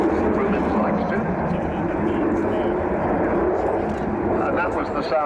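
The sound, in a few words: Avro Vulcan bomber jet engines flying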